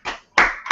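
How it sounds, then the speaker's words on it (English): One person claps hands during a Python programming lesson, two sharp close claps with a third starting just at the end, each separated by a moment of silence. "I wanna clap it off for you guys,"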